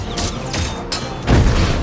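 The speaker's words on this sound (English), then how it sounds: "Falcon is firing projectiles that cause small explosions" Small explosions from projectiles fired by Falcon in a Captain America: Brave New World action scene: four loud, sharp blasts spaced about a third of a second apart, the last one heaviest and trailing into a rumbling tail.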